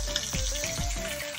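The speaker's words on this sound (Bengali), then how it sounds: "দেখো মাছ ভেজে নিচ্ছি এখন আমি" Fish frying in hot oil in a home kitchen, a steady, close sizzle that crackles throughout, with a few soft stirring scrapes and bubbling pops.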